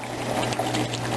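Water poured from a container into a cooking pot of Jamaican curry chicken made with chicken breast, a steady close splashing pour lasting about a second.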